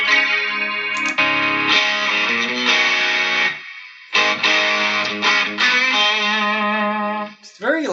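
An electric guitar run through an effects unit plays sustained, harmonically rich notes with a buzzy fuzz distortion, loud and continuous apart from a brief gap near the middle, with a faint voice underneath.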